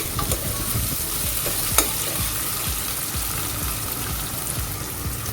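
Chopped onion fries in a pan with green chilli and ginger until light golden, a continuous crackling sizzle with soft stirring scrapes and one sharp click partway through, with no talking.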